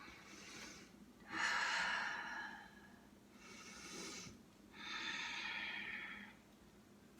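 Yoga student breathing slowly and audibly through a stretch, three long breathy exhalations with pauses between, close and fairly soft, with no talking.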